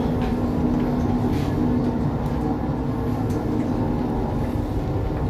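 A Swedish single-carriage railcar on the Nene Valley Railway gives a steady, close rumble of wheels and engine with a faint tonal hum, continuous and unbroken throughout.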